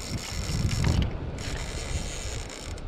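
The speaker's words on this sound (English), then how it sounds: "He is absolutely squealing some drag." A fishing reel's drag ratchets and whirs continuously as a smallmouth bass pulls line in a small creek, with a dense mechanical buzz under light wind noise outdoors.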